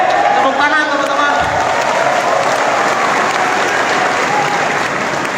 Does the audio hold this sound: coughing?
no